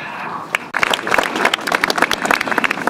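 Applause from a crowd at a garden opening ceremony, dense clapping building after a brief dip and continuing steadily, with a voice speaking over it.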